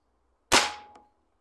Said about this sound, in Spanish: Muy bien, hacemos un disparo.